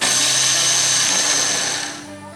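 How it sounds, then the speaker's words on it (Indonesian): A kitchen blender coarsely grinds roasted samu with a loud, steady whirring roar that eases off toward the end as the motor winds down. "Blender secara kasar saja ya, jangan terlalu halus."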